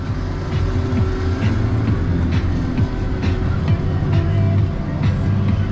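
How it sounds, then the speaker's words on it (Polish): A T7 290 tractor labours up a steep, hilly field while tilling, its heavy diesel engine droning loud and steady throughout with a low rumbling, mechanical clatter. "traktor tutaj dzielnie się wspina"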